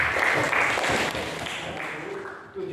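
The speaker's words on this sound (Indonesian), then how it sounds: "Kasih tepuk tangan buat Anissa." A classroom of students claps steadily for a classmate. The dense, sustained applause fades slightly toward the end.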